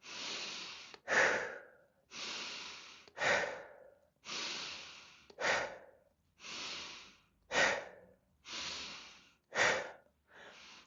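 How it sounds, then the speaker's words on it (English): Circular breathing, shown as a steady in-and-out rhythm: about five cycles of a long airy inhale followed by a sharp forceful exhale, close and alone with no talk. "So it's in and out, circular breath."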